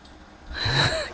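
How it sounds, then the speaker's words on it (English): A puppy breathes and pants close by in a garden, a brief run of quick huffing breaths that rises and then tapers off within about a second. "And then you can see here, there's the puppy."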